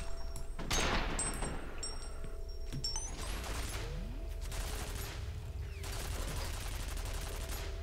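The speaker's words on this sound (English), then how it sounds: "It's just an angry turret. I'd probably be angry too if something was shooting at me." Automated turret gunfire in the shooter game F.E.A.R., rapid bursts of shots with metallic clanks and impacts, fairly quiet and continuous throughout.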